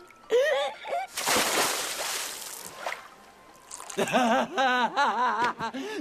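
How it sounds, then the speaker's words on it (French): A broadband splash into fountain water in an animated show lasting a few seconds, between stretches of voices; talking resumes right after the splash. "Jolie éclaboussure."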